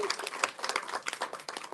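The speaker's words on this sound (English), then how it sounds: "Give that a round of applause" Live audience at a Barnes & Noble stage event breaks into a round of applause, dense overlapping claps sustained and fairly loud throughout, with no voice over it.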